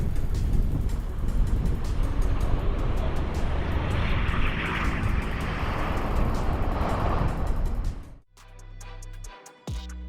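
A skywriting airplane drones overhead, its engine a broad steady roar for about eight seconds before cutting away abruptly, leaving faint scattered sounds.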